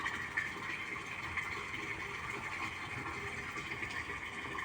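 Steady flow of water pouring from a long hose into a concrete tilapia pond, a continuous even rush with no pauses and no voices.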